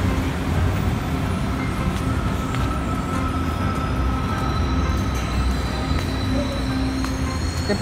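A Line 2 light rail train in the Philippines rolls by close and loud at a station, a constant roar of wheels on track with faint metallic squeals and no voices.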